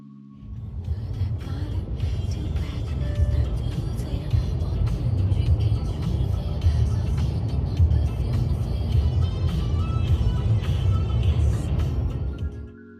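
Car driving on a road in Tenerife from the city toward the hills, a steady low engine and tyre rumble heard from inside, constant and moderately loud throughout with no talking.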